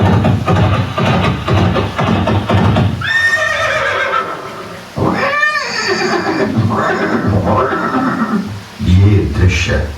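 A horse neighs in a museum diorama of Chetak, Maharana Pratap's horse, at Udaipur's Maharana Pratap Museum: a loud, trilling whinny rises and falls mid-way among repeated neighs, with a voice talking around it.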